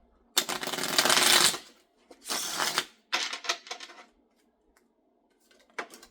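Tarot cards are shuffled in several quick riffling bursts, close and fairly loud, separated by short pauses, with a faint final flutter.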